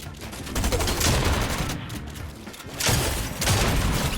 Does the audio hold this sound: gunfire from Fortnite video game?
yes